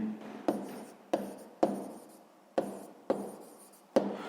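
Numbers written by hand in a sixth-grade maths exercise, with a steady scratch of pen on paper broken by six sharp taps at roughly even intervals as each stroke begins, close up and alone.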